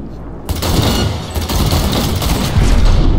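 Gunfire in the video game Cyberpunk 2077: dense, rapid volleys of shots that roar continuously and loudly from start to finish, with no talk over them.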